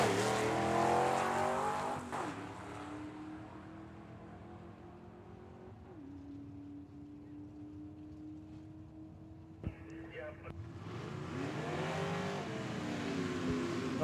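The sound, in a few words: station wagon and Corvette drag racing at Tucson Dragway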